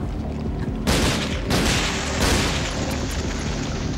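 Loud gunfire bursts in the PS2 game Resident Evil Dead Aim, two heavy booming blasts cracking out over a dense, noisy game backdrop, close and forceful.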